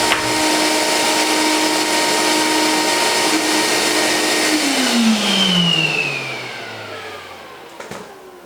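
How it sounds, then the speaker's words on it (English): A drill bores the last hole through an MFT table top guided by a parf guide, a loud steady whine that holds, then winds down in falling pitch as the bit spins out, followed by a couple of clunks. "I'm just going to show you the last hole being drilled"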